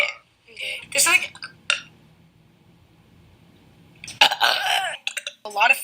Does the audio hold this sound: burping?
yes